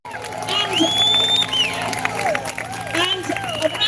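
A crowd cheers and claps at a carers' rally, with whoops and shouting voices rising over the applause in short bursts.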